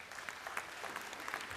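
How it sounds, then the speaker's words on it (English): A conference audience applauds the local organizing committee at an ophthalmology society event, a continuous faint patter of many hands from a distance. "everybody should give a applause to the LOC"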